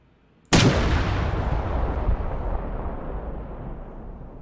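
A single loud gunshot from a heavy weapon in the Arma 3 Global Mobilization DLC cracks out of near silence and rolls into a long, booming echo that fades slowly.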